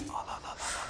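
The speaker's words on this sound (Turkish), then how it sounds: "Hatta derin bir nefes al." A person draws in one long, audible deep breath through the mouth in a TV drama scene, close and steady, with a faint murmur in the background.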